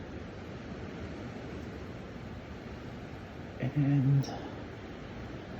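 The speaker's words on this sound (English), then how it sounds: "I don't know if it is a snowstorm or a rainstorm right now." Heavy wind with mixed rain and snow in Calgary, Canada, a steady broad rushing roar throughout, briefly overlaid by a short spoken word near the end.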